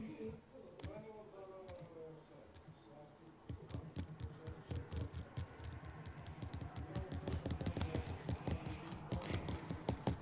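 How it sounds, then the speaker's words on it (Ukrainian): A finger or mouse clicks rapidly on a hamster clicker game, a dense run of sharp, close clicks that speeds up and grows louder in the second half, with faint talk early on. "Я быстро кликаю"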